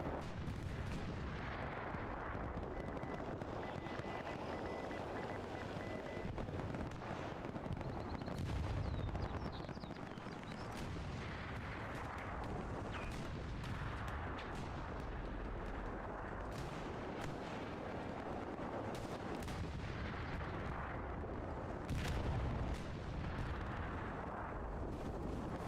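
Rocket artillery fire booms and crackles in a video game battle on the Kharkov map, a dense, continuous barrage of heavy blasts and rumbling impacts with no voices.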